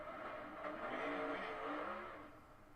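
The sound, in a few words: NASCAR next gen race car, in-car audio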